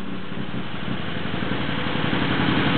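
A 1948 Daimler DE36 limousine with a 5.4-litre overhead-valve straight-eight idles just after a cold start, a steady, even low rumble close by and alone for the whole stretch.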